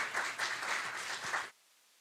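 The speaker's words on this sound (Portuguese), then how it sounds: "Palmas para a Joana aqui, pessoal" Applause from an audience at a geoprocessing conference talk, a steady patter of many clapping hands that carries on for about a second and a half, then stops abruptly into near silence.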